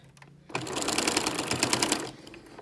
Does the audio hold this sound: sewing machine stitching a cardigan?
yes